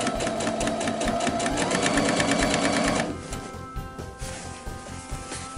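A sewing machine stitches a tote bag seam, running fast and steady with a rapid rhythmic clatter, close and loud, then easing to a lighter, quieter run partway through.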